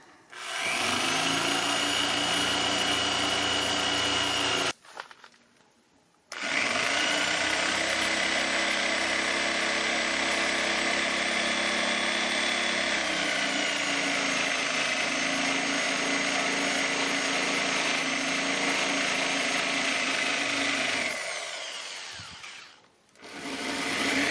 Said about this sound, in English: a metal brush attachment, I get rid of the rust